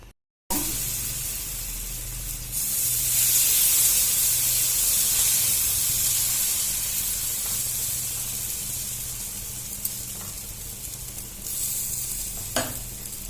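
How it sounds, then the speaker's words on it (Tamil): Adai batter for an adai-aviyal meal hits a hot pan and erupts into a loud, close, hissing sizzle that swells and then slowly eases, broken by a couple of faint clicks. "அடுத்ததை அடை ஊத்திக்கலாம்."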